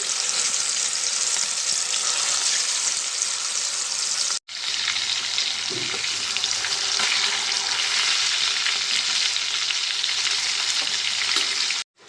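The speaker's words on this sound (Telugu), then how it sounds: "ఇంకా మిగతా చేప ముక్కలను కూడా మనం వేసేసుకున్నామండి." Pieces of masala-coated fish fry crisply in hot oil, a steady loud sizzle that holds evenly throughout, with a brief break near the middle and another near the end.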